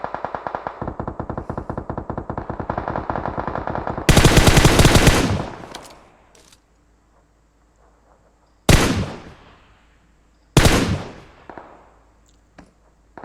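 Video game gunfire in a hunt-style shooter match: a sustained rapid burst of automatic fire, then a heavy blast, followed by two more loud separate shot bursts with decaying echoes and quiet gaps between, close and dominant.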